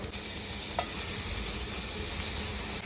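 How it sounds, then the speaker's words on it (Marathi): Vegetables go into garlic already frying in a pan and are stir-fried, giving a loud, even sizzle from start to finish with one brief clink near the beginning. "आपण आता आपल्या भाज्या यात टाकूया."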